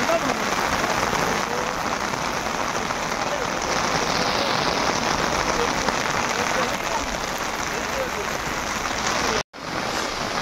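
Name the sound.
rain falling at a cave in Kodaikanal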